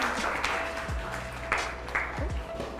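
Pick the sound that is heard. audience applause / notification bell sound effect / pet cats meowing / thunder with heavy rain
audience applause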